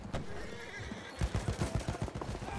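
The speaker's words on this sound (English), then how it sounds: "Okay, I'm going up top of the horse." Horse in a multiplayer shooter video game letting out a loud whinny, then hooves clip-clopping in a rapid rhythm, with faint gunfire in the background.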